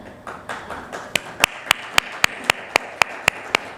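Keynote session audience at a conference hall breaking into clapping, soft scattered claps at first, then loud, sharp, evenly spaced rhythmic claps in unison, close and punchy.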